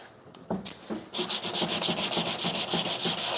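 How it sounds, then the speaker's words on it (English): Wood being sanded by hand with steady back-and-forth strokes, a regular series of about fifteen close, rasping rubs after a few quiet taps and scrapes. "Sanding is my least favorite part of any project, and here I am, just sanding away."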